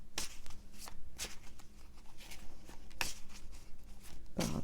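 Tarot cards being drawn and shuffled, several crisp riffling bursts and slaps spaced a second or so apart, close up with no talking.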